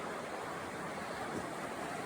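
A river on the Dosewalips flows over a gravel bar of rounded stones in winter, giving a steady, even rushing wash that holds without a break throughout.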